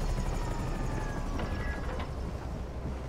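Helicopter rotor drone from GTA V, a steady loud whirring wash with faint siren-like tones over it, continuous throughout with no talking.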